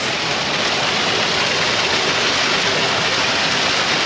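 Water rushes over forest rocks in a small waterfall in south-west Western Australia, a steady, dense roar with no breaks, close and continuous throughout.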